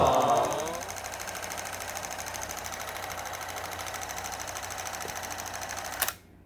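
The motor of a vintage Fujica film camera whirs in a steady, rapid mechanical buzz for about six seconds after its button is pressed, then cuts off with a small click.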